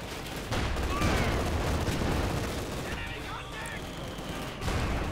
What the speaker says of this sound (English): Mortar fire here versus the anti-tank gun.